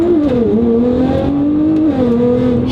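A 2009 or 2015 Nissan GT-R engine revs at high RPM, a loud, steady, rising drone heard from inside the car, with smooth pitch changes as it pulls through the gears.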